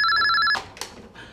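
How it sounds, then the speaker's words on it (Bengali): A telephone rings indoors with a loud, close electronic bell tone in quick repeated pulses, cut off abruptly after half a second, followed by quiet room noise. "ফোন"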